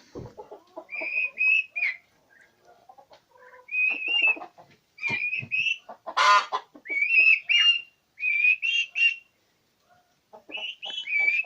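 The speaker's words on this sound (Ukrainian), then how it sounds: "індики у мене подають звуки" Repeated high, chirpy peeping and trilling calls from young turkeys, in short bursts with brief pauses, fairly close and moderately loud, with no talking.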